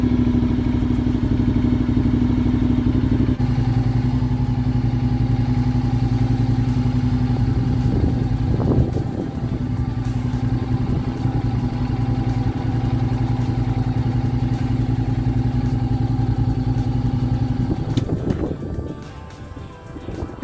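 Honda NC750S DCT motorcycle engine idling steadily after an oil and filter change, a loud, close, continuous mid-pitched drone with a few clattering knocks and thumps partway through and near the end.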